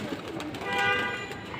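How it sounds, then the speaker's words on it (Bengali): A rescued Jalali pigeon with an injured wing gives a short, soft coo close by, over a noisy, hissy background. "এই একটা জ্বালালি কবুতর"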